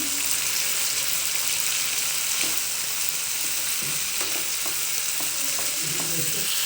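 Capsicum fries in a pan for a home-style capsicum curry, with tomato already added, giving a steady, loud sizzle throughout, with occasional scraping stirs breaking through the hiss.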